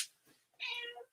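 A house cat gives a short meow nearby, with a faint breathy sound just before it and then quiet.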